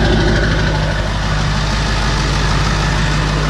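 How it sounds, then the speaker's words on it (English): A 7.3 PowerStroke diesel pickup engine idles with a deep, loud exhaust rumble, steady and close throughout, with no talking. "so you made your truck's tailpipe a lot louder"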